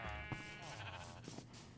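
A sheep in the Minecraft video game lets out a wavering, drawn-out bleat over a steady hum of background noise.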